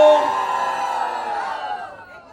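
A crowd at a live hosted stage event shouts, whoops and cheers together, a loud sustained roar that swells at the start and slowly fades over a couple of seconds.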